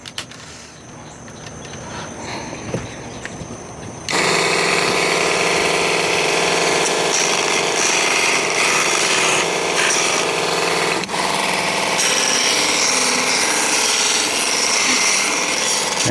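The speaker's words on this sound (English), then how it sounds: "But you can just use a Dremel with the sanding wheel on it." Dremel rotary tool fitted with a sanding wheel grinds a Kydex knife sheath, a loud steady high-pitched whine kicking in after a quieter start and running continuously with a brief dip near the end.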